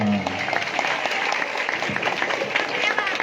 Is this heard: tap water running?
no